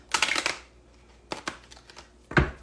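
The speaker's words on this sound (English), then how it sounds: "Well, that wasn't a good shuffle." A deck of tarot cards is shuffled by hand in three short, close bursts of riffling and snapping, with quiet pauses between them and no speech.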